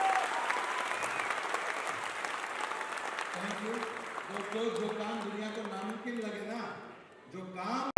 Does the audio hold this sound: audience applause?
yes